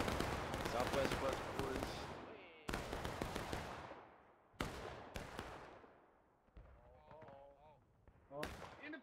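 Black-powder musket volleys in the Civil War game War of Rights during an East Woods skirmish, loud ragged cracks with long rolling decays, several separate bursts. Shouted commands are heard between the shots.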